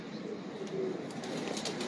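A Lakha pigeon coos softly at close range, a few low, rolling calls over quiet background noise.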